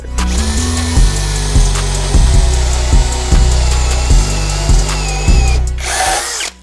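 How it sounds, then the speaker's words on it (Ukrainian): A Dnipro-M CD-12BC brushless cordless drill bores a 35 mm bit into wood, its motor whining loudly and steadily with repeated rhythmic dips as the bit bites and bogs, then cuts off near the end. "Переходимо до сверла діаметром 35 мм."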